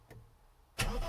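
An MGB GT's engine, with a good battery, cranks and catches abruptly near the end after a near-silent pause. The burst is loud and close, settling into a running rumble.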